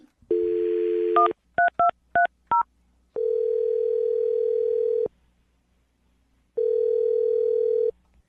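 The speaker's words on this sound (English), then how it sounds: "I'm going to dial her phone number right now." A telephone dial tone, then a quick series of touch-tone dialing beeps, followed by two long ringback tones with a pause between.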